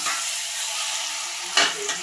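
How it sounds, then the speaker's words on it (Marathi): Chicken fries in hot oil in a kadai, a steady close sizzle with a brief louder burst of stirring near the end. "कढईमध्ये मी चिकन घालून घेतलेलं आहे. आपण चांगलं फ्राय करून घेऊया."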